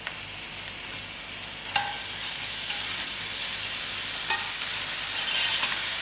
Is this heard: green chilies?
yes